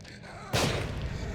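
In the video game The Evil Within, a single loud gunshot fired at an enemy bursts out suddenly midway and leaves a rumbling decay behind it.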